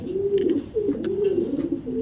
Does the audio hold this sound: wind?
no